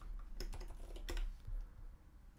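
Several quick keyboard keystrokes and shortcut presses on a Mac while coding an iPhone app, a few crisp clicks close by in a short burst, then quieter, with no speech.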